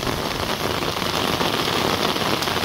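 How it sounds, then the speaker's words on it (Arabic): Heavy rain falls just outside the doorway of a countryside house near orange groves in Berkane, a constant close hiss of drops on surfaces throughout, alone. "والله الا واحد الشتيوه تبارك الله ما نهضروش عليه، الشتيوه ديال بصح"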